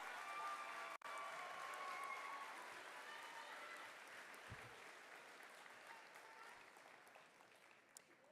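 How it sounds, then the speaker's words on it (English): Graduation audience at John Marshall School of Information Technology applauds, a broad wash of clapping that starts strong and slowly tapers off, heard from some distance in a large hall. "Please give them a round of applause."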